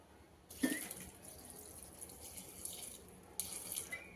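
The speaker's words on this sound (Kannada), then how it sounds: "ಮುಳುಗೋ ಅಷ್ಟು ನೀರು ಹಾಕ್ಕೊಳ್ತಾ ಇದ್ದೀನಿ" Water is poured into a pot of okra for cooking, two short splashing bursts with a quieter trickle between, fairly faint and with no talk.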